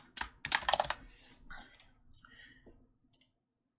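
Quick bursts of clicking keystrokes on a computer keyboard, a cluster of loud taps followed by a few scattered, fainter presses, with some faint talking in the background.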